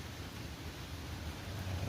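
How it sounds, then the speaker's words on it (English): Rain falls steadily outdoors at night, a faint, even hiss with a low rumble beneath and no voices. "It's raining and shit."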